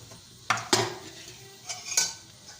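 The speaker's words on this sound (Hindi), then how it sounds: "कढ़ाई हमने चूल्हे पे गर्म होने के लिए रख दी है। हमने इसमें ऑयल डाल लेना है 2 चमची।" A metal karahi wok is set on a stove and oil is added while cooking palak gosht: a few sharp metallic clanks and scrapes ring out close by, spaced irregularly over a quiet background.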